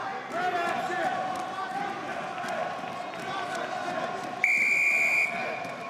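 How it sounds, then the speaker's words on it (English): A referee's whistle sounds once, sharp and steady, for about a second during a Senior World Championships wrestling bout. It rises over a continuous arena murmur, with commentary running underneath. "A lot of whistles in this opening round"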